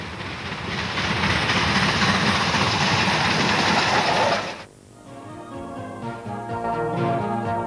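NSWGR Riverina steam train approaching Bundanoon, a loud sustained rumbling roar that suddenly drops to a quieter, steady tonal drone, with no voices.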